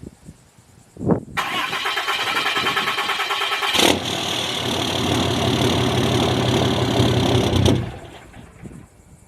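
An engine cranks briefly and catches, then settles into a loud, steady idle for several seconds before shutting off, with no talking; it is a cold start done to check the fuel and look for leaks before an oil change.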